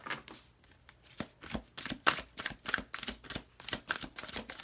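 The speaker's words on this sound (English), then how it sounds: "I might have to cut the deck" A deck of tarot cards handled and cut by hand, a close series of papery riffles and slaps in quick, uneven bursts, each one sharp and short.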